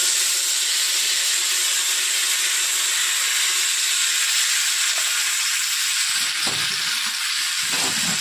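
Tomatoes frying in a little hot oil in a kadai over a high flame give a steady, loud hiss that runs unbroken through the whole stretch, with no voices.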